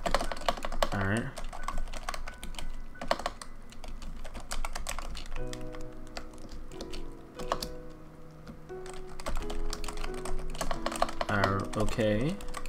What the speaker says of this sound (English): I'm typing out a message.